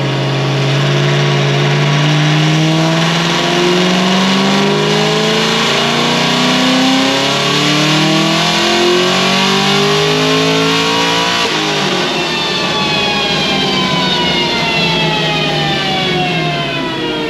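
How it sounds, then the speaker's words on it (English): A procharged car engine revs hard during a dyno pull: a loud, sustained roar climbing steadily in pitch for about eleven seconds, then dropping briefly at a shift and climbing again. "I'll do one more pull, dyno pull, and then I'll do a trans, and then I'll put E in it."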